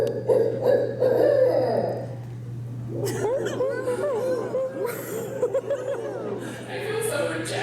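People at an Earth Day event imitate owl calls, giving wavering hoots in short bursts, mixed with laughter and chatter from a group, over a steady low hum.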